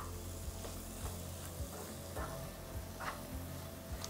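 Potatoes stirred and frying in a pan over a medium flame for an instant potato fry, with a steady sizzle broken by repeated scraping strokes in a regular rhythm, close and alone.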